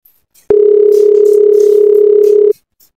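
A steady, loud telephone dial tone plays for about two seconds during a call attempt, clean and uninterrupted, with no voices over it.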